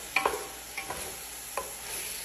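A spoon stirs chicken pieces with tomato and salt in a cooking pot for chicken kabsa, giving a few scattered soft scrapes and knocks over a faint background hiss.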